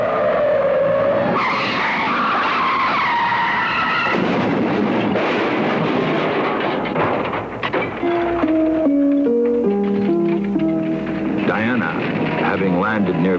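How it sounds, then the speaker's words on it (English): A car skids out of control on a highway while swerving away from an oncoming drunk driver, its loud sustained tire screech running throughout under a dramatic music score, with a voice speaking over part of it. "a car on the nearby highway went out of control, veering away from an oncoming drunken driver"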